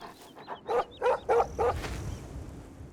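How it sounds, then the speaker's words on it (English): Dog in Oblivion (2006) barking in a quick run of about five sharp yips and barks close by, then tapering off into quieter background sound. "This is an actual dog."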